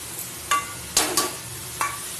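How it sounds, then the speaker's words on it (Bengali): Snake gourd and onion being stirred in a frying pan, a few sharp scraping strokes of a spatula over a faint steady sizzle, close and fairly quiet, no talk. "এবার ভালো করে পেঁয়াজের চিচিঙ্গাটা নাড়াচাড়া করে নেব"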